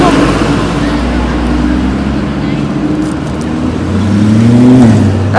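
A car passes close by with its engine audibly revving and rising in pitch near the end, over a steady road rumble while a person talks.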